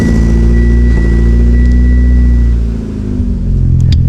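A Mitsubishi Evo X engine powered by a small Odyssey PC680 battery runs loudly up close with a deep, steady rumble that dips briefly before picking back up.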